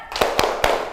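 A class of children claps a rhythmic spirit cheer in a classroom, three sharp, loud claps spaced evenly apart with no talking.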